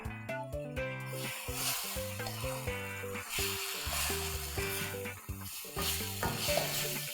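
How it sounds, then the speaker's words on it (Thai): Pork blood and bean sprouts are stirred into Isan-style fried rice noodles in a hot pan. Steady sizzling and scraping stirs sit under prominent background music. "เราก็จะใส่เลือดนะคะ เลือดหมูค่ะ และถั่วงอกนะคะ ใส่ลงไปแล้วก็คลุกเคล้าพอเข้ากันค่ะ"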